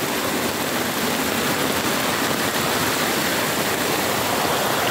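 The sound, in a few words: swollen flooding river overflowing its banks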